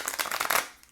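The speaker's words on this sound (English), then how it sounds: "Let's get a good shuffle here for you, Scorpio." Tarot cards get a quick close riffle shuffle, a brisk burst of papery flutters that fades out within a second.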